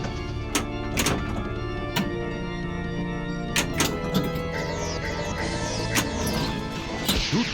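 Virtual Theatre of Magic pinball table: a dense run of loud smashing hits and thunks over a continuous bed of game music and effects, with a bright crashing burst toward the end.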